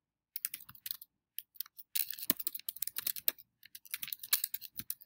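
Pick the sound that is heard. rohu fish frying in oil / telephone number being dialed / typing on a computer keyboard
typing on a computer keyboard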